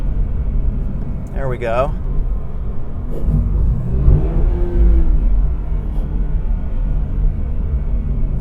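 A car engine gives a short throttle blip during a heel-and-toe downshift into second gear, a brief rising rev over a low rumble, with someone speaking nearby.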